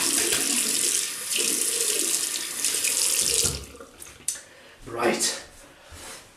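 Water from a sink tap runs steadily as a stainless steel safety razor is rinsed under it, then stops, leaving a few splashes and a brief gush while someone talks.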